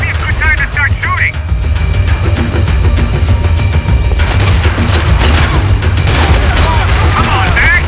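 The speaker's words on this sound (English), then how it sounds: "This might be a good time to start shooting." Gunfire in the Max Payne 3 video game, dense rapid bursts and booms layered over a busy, loud mix with voices talking throughout.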